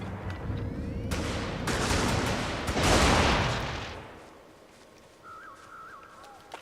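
Gunfire in a shooter video game, a dense run of loud close shots that swells and then fades, followed by quieter game tones.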